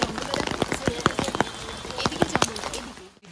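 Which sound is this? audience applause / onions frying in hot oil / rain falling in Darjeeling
rain falling in Darjeeling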